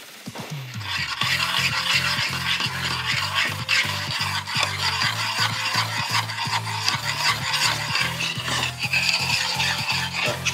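Chocolate melting with praline, cream and butter as it is stirred in a pan. Close, rhythmic scraping strokes repeat steadily over a low, constant hum.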